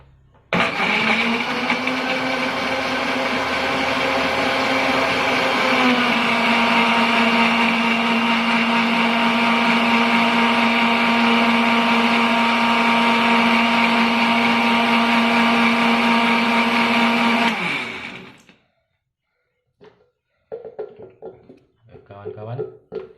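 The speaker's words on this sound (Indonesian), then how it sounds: "Kita blender." Pineapple blended in an electric blender: a loud, steady motor whir lasting about seventeen seconds, then cutting off abruptly, followed by a few short clattering handling sounds.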